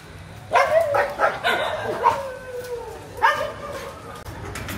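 Dogs at an animal shelter in Sri Lanka bark and yip in several short bursts, nearby and moderately loud, with whimpering between barks and quiet background noise.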